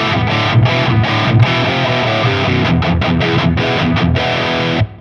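Distorted electric guitar run through a Bogner Uberschall cabinet impulse and captured with a 414 microphone, playing loud, dense chugging riffs with short palm-muted stops throughout, alone before it cuts off abruptly near the end.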